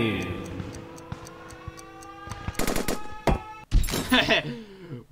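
Sharp revolver gunshots in the Henry Stickmin Collection video game, a few loud cracks near the middle and end among clicks, thunks and ringing game music tones.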